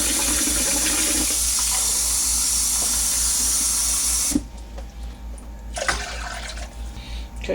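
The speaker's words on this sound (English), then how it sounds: "And then I'm going to put in 1 cup of water." Water poured into a white vinegar mixture for pickled eggs, a steady loud rushing pour for about four seconds that stops abruptly, followed by quieter clinks and kitchen handling sounds.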